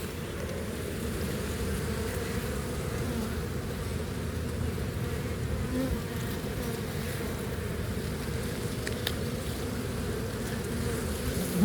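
Honeybees drone in a dense, continuous buzz during a spring hive inspection in Kentucky, steady and close for over ten seconds, with no voices.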